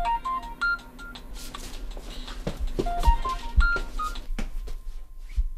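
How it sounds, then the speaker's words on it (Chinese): A telephone number is dialed at home, a quick run of short electronic keypad beeps at varying pitches, some in rapid bursts and others spaced apart, close and clear above a quiet room hum. "等我打个电话俾佢先。"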